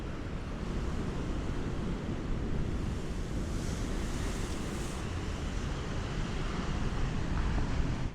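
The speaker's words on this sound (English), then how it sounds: "The day I've decided to come down to the coast, the sea is absolutely wild." Wild North Sea waves crash along the coast in a dense, continuous roar of surf, with heavy wind buffeting the microphone throughout.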